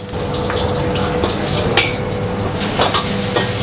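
Steady, close sizzling of vegetables frying in a hot wok for nasi goreng, with scattered clinks and scrapes of stirring throughout.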